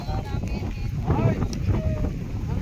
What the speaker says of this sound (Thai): นี่บ้านเราก็ลมดีครับลม